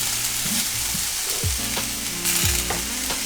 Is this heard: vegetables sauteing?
yes